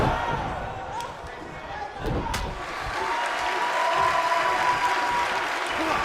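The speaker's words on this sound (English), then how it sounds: "I don't remember the last time I heard a more passionate crowd than the one we have here tonight" An arena crowd in the WWE 2K19 wrestling game roars steadily as a dense, continuous wash of cheering, with a few sharp slams and impacts punching through near the start.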